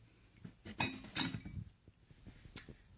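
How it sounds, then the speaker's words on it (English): Glass items from a flea market haul clack and clink together in a few sharp bursts, close by, with quiet handling noises between them. "Sorry if you guys hear glass clacking."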